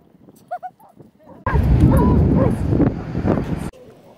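A dog on a beach gives a few soft yips and whimpers, then a loud burst of wind or surf noise rushes in for a couple of seconds before dropping away.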